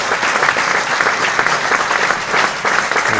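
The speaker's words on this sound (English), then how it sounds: "And listen to the applause for Will Luxton," Cricket spectators around the ground applaud steadily for a batsman reaching fifty on debut in a one-day county match, a dense, even patter of clapping with no voices over it.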